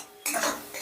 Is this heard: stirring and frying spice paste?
yes